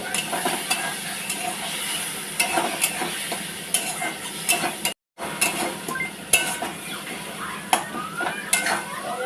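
Spice paste being stirred in a pan with a little water, a steady soft sizzle broken by repeated scraping and clinks of a spoon against the pot, close by with no talking.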